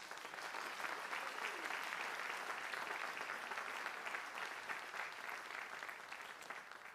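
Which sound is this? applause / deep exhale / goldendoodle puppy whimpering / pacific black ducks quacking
applause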